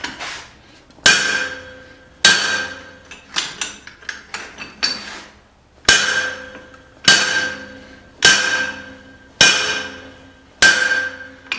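Sharp metallic hammer blows ring out on hot steel during the forging of a small cross peen hammer, a dozen or so strikes, some single and evenly spaced, some in quick clusters, each with a bright decaying ring.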